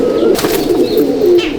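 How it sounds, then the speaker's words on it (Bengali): Pigeons in a loft at Halisahar, low continuous cooing close by with quick bursts of wing flapping over it. "এই যে বন্ধুরা দেখুন পায়রা"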